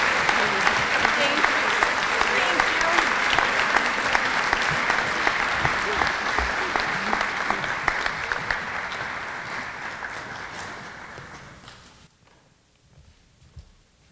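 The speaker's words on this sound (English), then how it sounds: "Let's have a big round of applause for all of our award winners tonight." Audience at a high school academic awards ceremony applauding, a loud, dense clapping that holds steady, then tapers and cuts off near the end.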